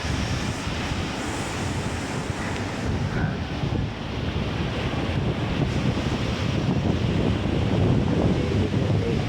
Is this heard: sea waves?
yes